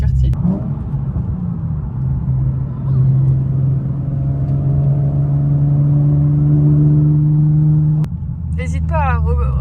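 A Nissan 370Z Nismo engine hums steadily while driving, with a low, even drone and a rising whine partway through. People talk over it inside the cabin.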